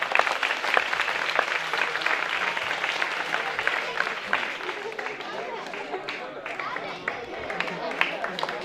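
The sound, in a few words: audience applause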